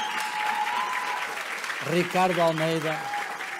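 A symposium audience applauds the musicians with sustained clapping, while someone speaks over it announcing names.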